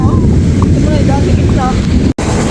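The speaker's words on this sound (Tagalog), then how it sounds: "Grabe lakas ng hangin, lakas ng ulan." Loud, gusty wind with heavy rain buffets close by with a roaring rush, while a faint voice is heard underneath and the sound cuts out for an instant.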